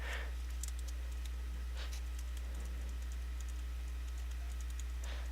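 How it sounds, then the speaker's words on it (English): Quiet, steady patter of typing on a computer keyboard during a Minecraft redstone session, soft clicks running continuously over a constant low hum. "Fat fingering the keyboard here."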